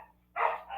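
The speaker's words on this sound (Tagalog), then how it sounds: "Ano ba itong aso ko?" A single short dog bark sounds from a nearby room, moderately loud against a quiet indoor background.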